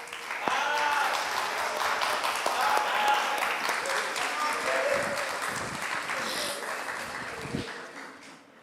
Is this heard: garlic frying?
no